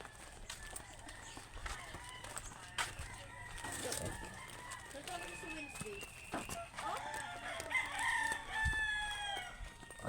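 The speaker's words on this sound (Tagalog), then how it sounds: "Ang dami manukan dito" Chickens and roosters crow and cluck around a yard full of poultry pens, with crows rising over a busy background, while people talk nearby throughout.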